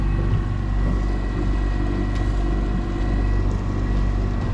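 Steady drone of a Yamaha T9.9 outboard motor pushing a Thunderjet boat under autopilot zigzag steering, a constant close hum with even tonal engine harmonics and no speech.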